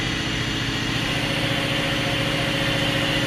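Fadal VMC 4020 CNC vertical machining center, a 2001 model, with its spindle turning steadily at 3000 rpm in high gear: a constant, even mechanical hum with a faint high whine, close and unbroken, no talking.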